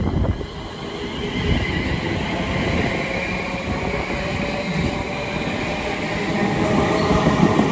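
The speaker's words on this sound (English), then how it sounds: "London Northwestern Railway says from Milton Keynes Central to London Euston. With 350-102 leaving." A Class 350 electric passenger train rumbles steadily nearby as it departs Watford Junction on the West Coast Main Line, a continuous heavy roar of wheels and motors with faint high squeals.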